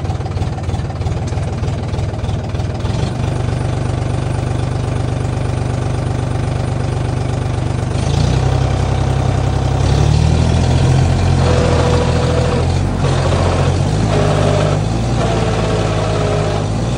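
A tractor engine labours in a muddy vineyard, a steady low idling drone that roughens and rises toward the end with deeper revving pulses, close and continuous with no talk.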